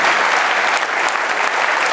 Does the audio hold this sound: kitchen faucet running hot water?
no